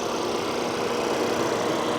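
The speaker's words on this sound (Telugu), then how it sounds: "సో ఇదైతే కార్ ఇంజన్" Stock Volkswagen Polo GT TSI 1.2 petrol engine running steadily at idle, a continuous even hum heard close up with no talking.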